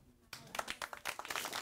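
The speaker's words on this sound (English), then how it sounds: "Oh, I'm getting a clap." A small burst of hand clapping from a few people starts abruptly and continues unevenly, fairly quiet and somewhat distant.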